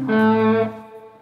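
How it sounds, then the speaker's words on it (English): A guitar amp with spring reverb sounds a single sustained chord that rings for about half a second, then decays into a short, fading reverb tail. "When you're used to hearing a spring reverb on an amp"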